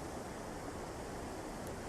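A waterfall pours down a rock face in North Wales, a steady, even broadband rush of water, faint and unbroken, with no voices.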